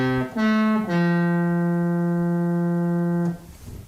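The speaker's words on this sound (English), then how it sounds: "that's more of a trumpet type sound" A steady synthesized tone, bright and brassy like a trumpet, slides down in pitch a couple of times and then holds for a few seconds.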